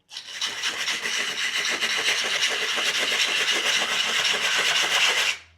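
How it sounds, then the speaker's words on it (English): Steady abrasive rasping of a 3D-printed model being rubbed back and forth across a sheet of sandpaper taped flat to a surface, continuous and close for about five seconds, with no talking. "I like to get a piece of sandpaper about this big, some tape on the back, put it down."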